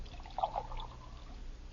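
Hot water pours from a kettle into a cup for instant Postum, a faint, brief trickle that fades quickly.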